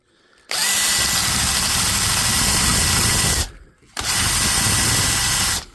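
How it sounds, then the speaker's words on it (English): A power drill spinning a wire brush runs loudly and steadily in two long runs separated by a brief stop, harsh and buzzy with a gritty brushing texture. "I would use a wire brush that you put in the drill."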